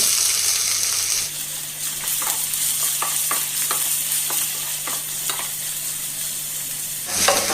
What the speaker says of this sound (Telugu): ఇదిగో కట్ చేసి పెట్టుకున్న ఉల్లిపాయ ముక్కలు పచ్చిమిరకాయలు వేసేసుకోవాలి